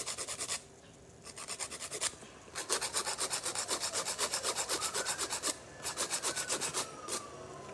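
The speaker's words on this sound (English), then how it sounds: "I'm gonna go in with this file and just sharpen." An 80/80 grit file rasps back and forth across an acrylic nail tip to sharpen its shape, a fast, rhythmic scratchy rubbing in several close bursts with brief pauses between.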